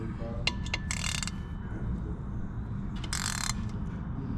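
A wrench ratchets in short bursts while tightening the clutch pressure plate bolts on a twin-disc clutch for a 350Z, clicking up close over a steady low background hum.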